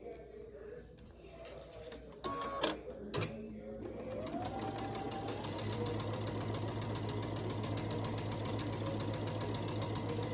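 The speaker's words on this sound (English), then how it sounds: "I'm going to take them to the sewing machine, and I'm going to sew down this seam all the way down at 1/4 inch." A sewing machine runs steadily along a quarter-inch seam, its rapid mechanical stitching hum settling into a continuous drone after a few handling clicks and knocks.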